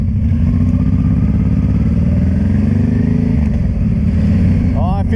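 A custom Honda Transalp motorcycle engine drones loud and close while riding, rising and falling as the rider shifts gears.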